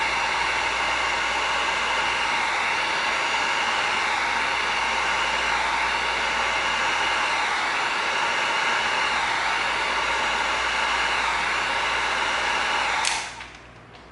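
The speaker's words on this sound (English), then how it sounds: "We're going to come in with our heat gun. We're going to make those slits open up." A heat gun blows hot air onto slit EVA foam in a loud, steady rushing whoosh that holds for about thirteen seconds before cutting off abruptly, with no talk.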